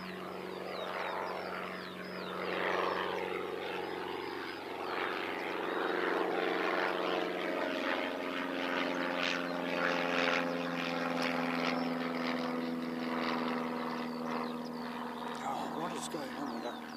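A propeller aircraft lands at Christchurch Airport with the wind straight down the runway, a steady droning engine hum that swells and holds loud over about seventeen seconds with a faint wash of outdoor air.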